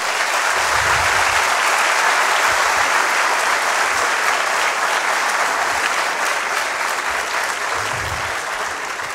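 Loud, sustained applause for Peruvian champions at a farewell ceremony for Peru's delegation to Rio, a dense continuous roar of clapping that holds steady throughout and eases slightly toward the end.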